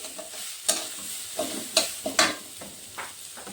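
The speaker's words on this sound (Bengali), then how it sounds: "একটু ভালো করেই ভেজে নিতে হবে ডালগুলো।" Moong dal lentils fry in a pan for a Bengali bottle gourd dish, a steady soft sizzle broken by sharp scraping stirs of a spatula at irregular intervals, close and moderately quiet.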